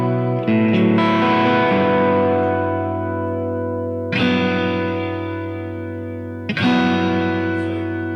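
Electric guitar played through a Tate FX Antares Tubescreamer pedal on its clean JFET-boosted parallel path, with three strummed chords ringing out and decaying in a full, slightly driven tone.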